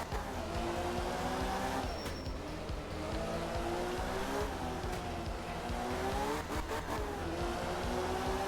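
Rally car engine in the video game art of rally, droning and revving steadily throughout with gear changes and shifting pitch, tires occasionally scrabbling, close and continuous with no talk.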